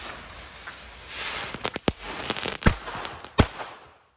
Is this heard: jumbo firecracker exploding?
yes